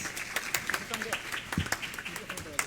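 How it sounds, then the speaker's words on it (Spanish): Audience applause welcomes invited guests at an international seminar in Peru, a dense and steady round of clapping at moderate volume with voices mixed in. "Recibimos con un fuerte aplauso, eso sí, a todos nuestros invitados."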